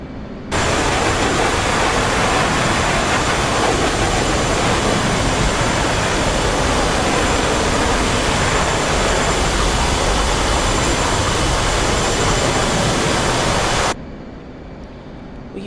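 Steady, loud jet engine roar from an aircraft in the DCS flight simulator, flying over an aircraft carrier at about 4,000 feet and 250 knots, holding constant for about thirteen seconds before cutting to a quieter background.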